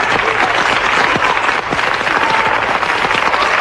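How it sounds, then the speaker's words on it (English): Cheering and applause erupt in mission control at the Apollo 11 lunar landing, a loud, dense burst of clapping and excited voices filling the room continuously. "Yeah, there's a cheer in this room."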